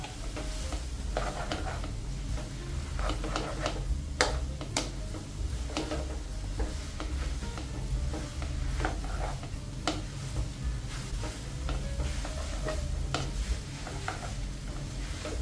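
Pansit canton noodles being stir-fried in a pan, a dense, close sizzle with continuous stirring and frequent sharp clicks and scrapes of a utensil against the pan, fairly loud and steady throughout with no voice.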